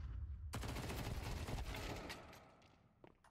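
Rapid bursts of Counter-Strike 2 gunfire in a professional match crackle continuously, dense and loud at first, then thinning into scattered shots near the end.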